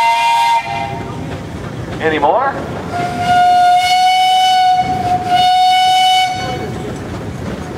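A 1921 Russell steam traction engine in a parade sounds its whistle, a long loud steady blast after a short earlier toot, with a voice speaking briefly and a crowd murmuring around it.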